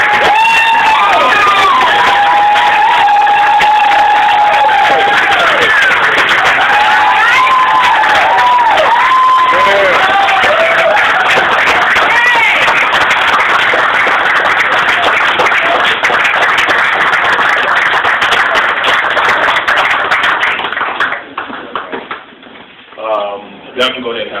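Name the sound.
audience applause and cheering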